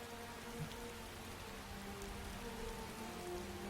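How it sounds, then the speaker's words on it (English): Steady, even rain in Skyrim pattering on a surface, a constant soft hiss with faint drops throughout and no voices. "You just had to rain"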